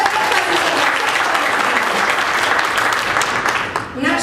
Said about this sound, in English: Yes, we can applaud for him.